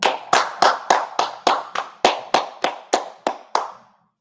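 A single pair of hands claps about a dozen times in a steady, even rhythm, each clap sharp and close, then stops.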